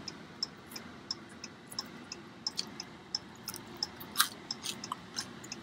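Someone chews crispy pepperoni pizza up close, a steady series of sharp little crunches and clicks at an irregular rhythm over a quiet, soft room background, with no talking.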